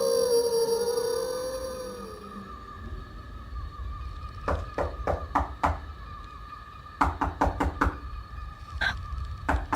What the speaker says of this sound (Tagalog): Mga sunod-sunod na katok, pagpatak ng hating gabi.